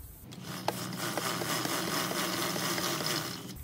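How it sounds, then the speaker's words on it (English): A scrubber brush works hard against a motorcycle chain, giving a dense, continuous bristly rasp with a few sharper scrapes near the start. The sound is close and steady, with no talking. "I take my scrubber and I start scrubbing."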